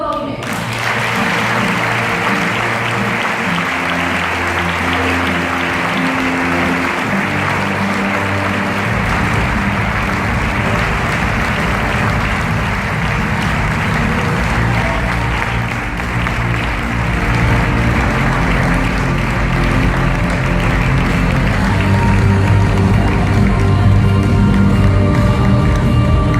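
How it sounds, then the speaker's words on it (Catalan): Sustained applause and cheering from an audience at a sports awards ceremony, dense and loud for the whole stretch with crowd noise and background music mixed in. "Un fort aplaudiment."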